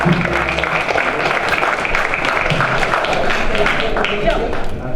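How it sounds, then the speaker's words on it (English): Loud applause from an audience at a panel event on returned citizens, a thick continuous clapping texture with voices mixed in beneath it. "Let's give them all a round of applause"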